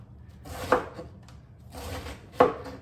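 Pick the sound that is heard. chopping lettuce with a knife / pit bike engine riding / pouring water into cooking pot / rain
chopping lettuce with a knife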